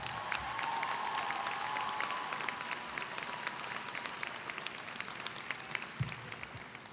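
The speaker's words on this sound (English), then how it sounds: "Give them a shout and a big round of applause for the support they hold for you here today." A graduation commencement crowd applauds steadily with scattered shouts and cheers, a broad, continuous wash of clapping heard from a distance in a large venue.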